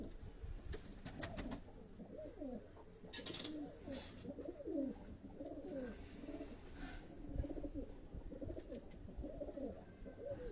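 Pigeons coo in repeated soft, throaty phrases, several birds overlapping at close range, with faint chirps and light knocks in the background.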